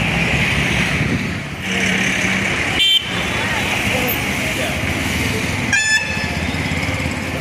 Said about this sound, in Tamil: கனரக வாகனங்கள், பேருந்துகள், சரக்கு வாகனங்கள் என்ன பிஸியாக இருக்கக்கூடிய ஒரு தேசிய நெடுஞ்சாலை.